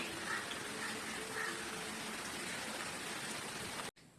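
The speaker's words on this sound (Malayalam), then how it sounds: "മഴ ചാറുന്നുണ്ട് കേട്ടോ നല്ലോണം മഴയുണ്ട് കേട്ടോ" Rain drizzles outdoors beside a pond, a dense, even, soft wash of falling drops that holds steady before cutting off abruptly near the end.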